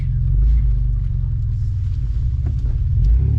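A 1998 Toyota 4Runner crawls through a small creek on an off-road trail, its engine a loud, steady low rumble close by, with faint splashing and knocks from the water and rocks.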